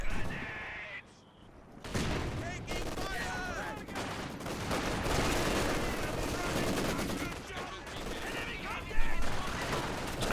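Mortar blasts and rapid gunfire from a Company of Heroes 2 multiplayer battle sound in dense, overlapping bursts. A brief lull comes early, then steady chaotic combat with sharp shots. A commentator talks faintly underneath.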